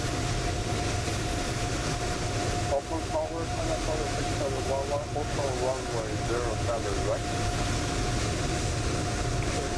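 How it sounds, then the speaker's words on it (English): An Atlas Air airliner taxis at Hong Kong airport in Microsoft Flight Simulator 2020, a steady engine drone with a constant whine running throughout, while a person talks over it. "Atlas Air taxiing on stand."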